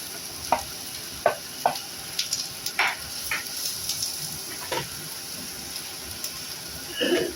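Rounds of sliced snake gourd (chichinga) fry in oil with a steady close sizzle, broken by scattered scraping stirs of a spatula; no talking.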